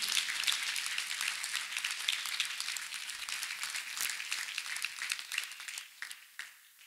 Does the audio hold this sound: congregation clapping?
yes